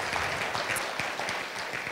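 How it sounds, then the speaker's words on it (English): Audience applause at the 2014 Wearable Arts Show in Ketchikan, a steady dense clapping from a crowd that fills the whole stretch at even loudness. "Please give a huge round of applause for Linda Millard and Kathy Bowling for"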